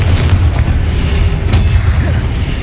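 A Confringo fire spell from Hogwarts Legacy detonates as a deep, rumbling boom amid continuous dense low-end battle noise, with a sharper burst near the middle.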